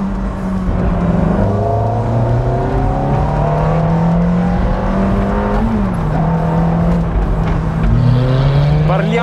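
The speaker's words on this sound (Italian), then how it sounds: "Sentite come suona questo V8!" Lancia New Stratos V8 engine with manual gearbox, a loud continuous engine note rising and falling through gear changes while driving, with talk over it.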